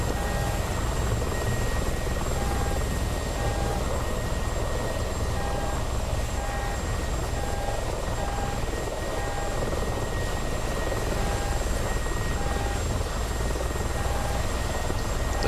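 Mi-24 Hind attack helicopter in the DCS flight simulator, its rotor and turbines making a steady, loud, unbroken drone with a faint periodic whine running through it, with no voices.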